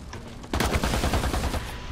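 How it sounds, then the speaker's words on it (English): A gun shoots at a zombie in the zombie game Pandemic Express, with a rapid loud burst of automatic gunfire after a short quiet lead-in, close and alone. "I shot a zombie."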